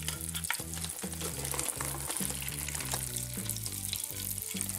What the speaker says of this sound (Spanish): Parece que estamos cocinando en una sartén, pero son nuestros petacetas, que son caramelitos muy chasqueantes